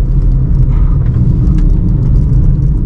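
A car cruising in fourth gear at speed, a loud, steady engine and road rumble from inside the cabin with a constant whirring drone and no talking.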